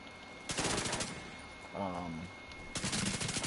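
Video game gunfire on PS4 rips out in two dense rapid bursts, loud and close, with a short stretch of someone talking in between.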